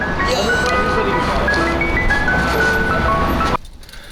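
An ice cream truck plays its melodic jingle loudly and steadily, with people talking over it, until the tune cuts off abruptly near the end.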